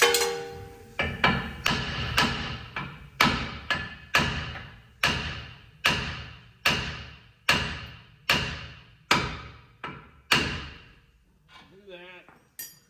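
A hammer strikes the steering knuckle of a 1999–2006 Silverado or Sierra 1500 during a suspension lift install, about fourteen loud metallic blows in a steady rhythm, each ringing briefly before the next.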